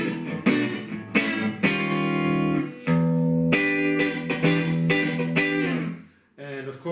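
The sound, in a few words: Lexicon 284 reverb and chorus effect on sound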